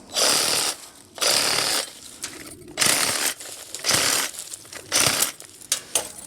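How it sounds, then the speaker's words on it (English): A cordless Sawzall reciprocating saw cuts during concrete floor prep in a boat-themed cabin build, running in loud buzzing bursts of about a second each, separated by short pauses, with no talking. "That's what a Sawzall's for,"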